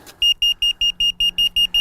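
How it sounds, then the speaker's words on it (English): An in-car sensor warning alarm beeps in a fast, even series of about nine short, bright electronic tones, close and alone. "this is the alarm you'll get inside the car if something is going above or below your threshold"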